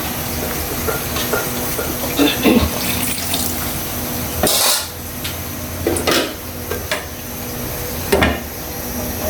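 Water pours into cooking spices for a silon fish curry, splashing in short bursts, with clinks and clatter of cooking in between, close and fairly loud.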